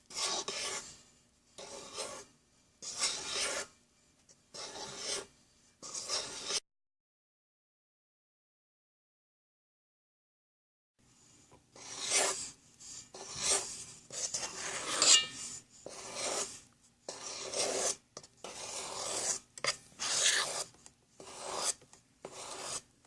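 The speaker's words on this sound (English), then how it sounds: "you want to quickly add this to the mixture and fold into the mixture" Red velvet cake batter with white distilled vinegar added, folded by hand with a spatula in a bowl, giving repeated close scraping strokes; the strokes pause for a few silent seconds, then resume at a steady rhythm.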